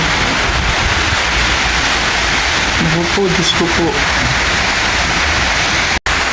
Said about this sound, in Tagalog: Hangin at ulan.